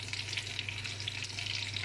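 Breaded fish reheating in butter in a pan gives a steady, close, gentle sizzle and crackle, continuous and alone with no voices.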